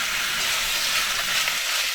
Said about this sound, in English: I'm gonna brown these, fry these, throw the sauce in